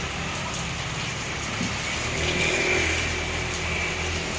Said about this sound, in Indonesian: Nah, hujan deras.